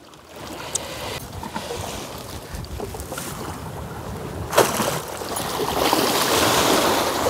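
A sea anchor is let out into the water from a sailboat running without a rudder, with steady wind and water rushing around the hull, a sharp splash near the middle and a louder wash of sea toward the end.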